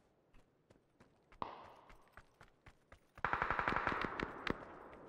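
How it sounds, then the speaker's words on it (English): Rapid SKS rifle gunfire in a PUBG match: scattered single shots at first, then a dense burst of loud, quick cracks in the final seconds, with no voices over them. "He just killed him with an SKS point blank?"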